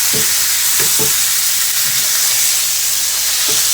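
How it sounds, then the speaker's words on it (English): A pork tenderloin sears in a hot pan, giving a steady loud sizzle and hiss throughout, with a few soft knocks as the meat is shifted against the pan. "we're only going to sear 3 sides, so we'll sear this one"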